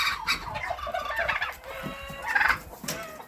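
Two turkeys fight in a farmyard, giving repeated gobbling calls and agitated fowl cries, fairly near and moderately loud, with bursts of clucking sounds that rise and fall across the stretch.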